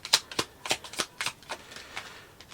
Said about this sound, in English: That was a bad shuffle.